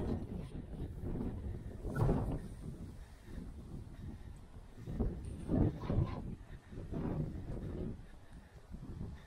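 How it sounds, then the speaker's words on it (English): Faint, irregular gusts of wind rumble against the microphone at a holiday park in Weymouth, Dorset, in soft low bursts, rising and falling over a quiet background. "It's too windy."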